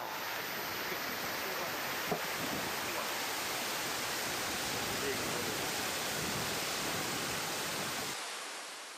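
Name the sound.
waterfall pouring from salt mountain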